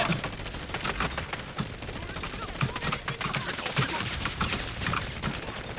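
Gunfire in the shooter game Delta Force: dense, rapid automatic bursts and overlapping shots crackling continuously and loudly, with voices talking over the fire.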